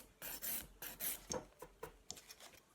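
A nail file rasps across a split hard gel nail in short, quick strokes, giving a close, scratchy rhythm of about eight passes that get shorter toward the end, with no talking.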